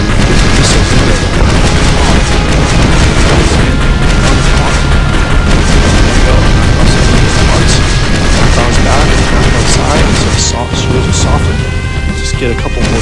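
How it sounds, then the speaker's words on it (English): Dense, loud barrage of missile explosions and booming impacts from a Space Arena ship battle, continuous rumbling bursts layered with electronic game tones and effects throughout. "Get a couple more missiles in there."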